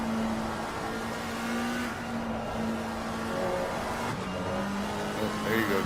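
A race car on a track holds a steady engine drone that rises in pitch through acceleration and shifts, with a faint voice underneath.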